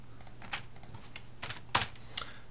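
Soft, irregular clicks of a computer keyboard being typed on nearby, with a couple of sharper key presses toward the end.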